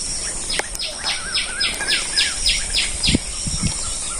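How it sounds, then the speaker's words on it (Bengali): A small bird repeats a ticking 'tik tik' call in a rainy village setting, a quick regular series of short, sharp high notes over steady insect-like hiss, with a few soft knocks near the end. "টিক টিক টিক টিক করেছে পাখিতে।"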